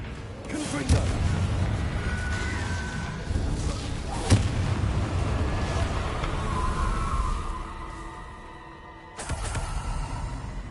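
Confringo fire spell blasts in the video game Hogwarts Legacy, heavy booms and bursts repeating through battle noise, loud and close, with a sharp crack near the middle and another burst near the end.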